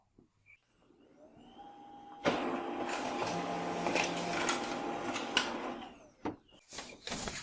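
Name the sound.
Xerox WorkCentre 3335/3345 printer printing supplies report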